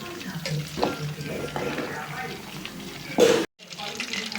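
Chilli chicken fries in oil in a pan with a steady sizzle and occasional stirring scrapes, close by. A louder burst comes just before a brief drop-out near the end.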